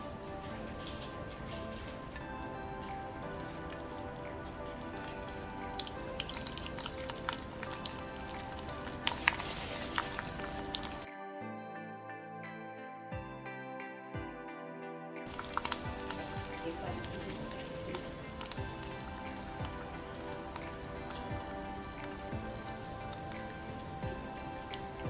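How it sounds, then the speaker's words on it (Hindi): Sabudana chips fry in oil, reused after pakoras, for a Janmashtami offering, giving a soft, continuous rain-like crackle that drops to a hush for several seconds midway before resuming; no talking. "इसी सेम तेल के अंदर मैं अभी चिप्स डालूँगी which is these sabudana chips."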